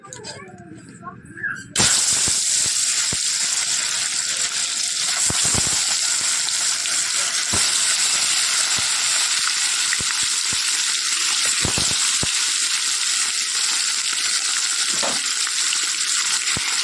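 Fish sizzles in a pan of hot oil, a loud, steady crackle that starts suddenly and carries on without a break. A few pops and clinks rise above it, and a voice speaks over the sizzle.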